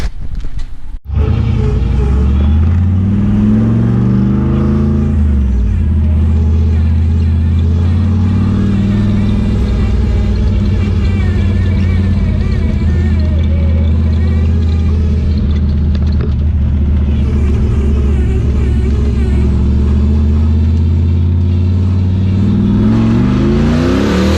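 A turbocharged 351 drift car engine rumbles loud and close, revving up and down as the car drives off, a steady heavy drone rising and falling in pitch throughout.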